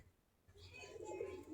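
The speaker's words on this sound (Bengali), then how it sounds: "আমাদের দেশি গিরিবাজ কবুতর" Domestic Giribaz pigeons coo softly after feeding, a low murmuring call that swells in the second half, fairly quiet and close with no talk over it.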